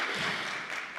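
Brief, steady wash of audience applause at the CascadiaJS 2019 tech conference, moderately faint and diffuse, lasting about a second.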